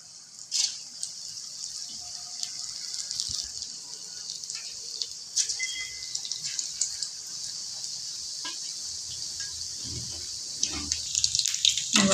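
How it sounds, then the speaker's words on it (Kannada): Palak spinach bajji fritters dropped into hot oil, a steady hiss of frying with scattered pops and crackles, fairly close and moderately loud, with a few kitchen clatters and no talk. "ಇವಾಗ ಎಣ್ಣೆ ಕಾದಿದೆ, ಬಜ್ಜಿ ಬಿಡೋಣ."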